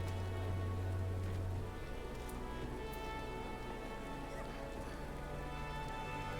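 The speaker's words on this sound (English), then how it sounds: "Rainy today." Soft, steady rainfall in a Final Fantasy XIV town, a faint continuous patter with a low tonal hum in the first moments, no voices.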